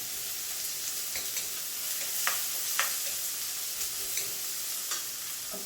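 Sliced onions and curry leaves fry in a hot pan, a steady soft sizzle with occasional scraping stirs and small crackles, close and continuous with no talking.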